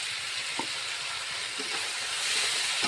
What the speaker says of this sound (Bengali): এখন মশলার সঙ্গে কিছুক্ষণ কষিয়ে নেব।